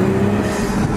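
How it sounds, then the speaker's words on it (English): Audi turbocharged car giving a continuous fluttering, whooshing engine-and-turbo rush, loud and close, over about a second with no talk. "Listen to this turbo flutter right now."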